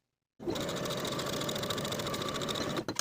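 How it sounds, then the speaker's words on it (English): A sewing machine runs steadily and continuously, stitching pockets onto jumpsuit pant legs with a 3/8 inch seam allowance, a close, even mechanical whir that starts abruptly and stops near the end. "sew both of these pockets in place with a 3/8 inch seam allowance"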